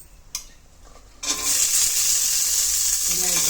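Onions drop into hot oil already holding chillies for a sambar-style egg gravy, setting off a sudden loud sizzle after a quiet start that then keeps up a steady, close frying hiss.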